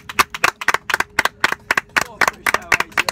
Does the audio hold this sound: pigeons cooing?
no